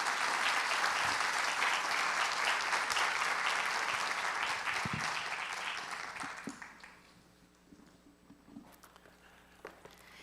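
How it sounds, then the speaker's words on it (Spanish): An audience at a sustainability forum panel gives the panelists a loud round of clapping, dense and steady at first, then thinning out after about six seconds into a few scattered claps and quiet room noise. "Para estos panelistas, un aplauso muy fuerte"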